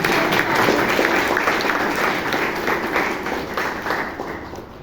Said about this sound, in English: Audience, give a thunderous round of applause if you enjoyed this.